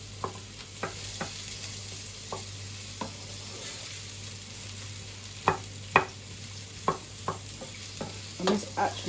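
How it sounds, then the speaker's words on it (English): Onions soften in a frying pan with a low, steady sizzle underneath. Sharp clicks and scrapes from stirring tap in irregularly throughout, getting louder near the end. "as soon as the onions hit the pan you'll hear the sizzling"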